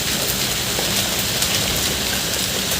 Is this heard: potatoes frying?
no